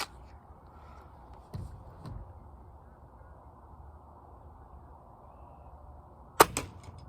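An air rifle pellet strikes a target at 20 yards with one sharp, crisp snap near the end, after two softer, duller knocks earlier in an otherwise quiet outdoor setting.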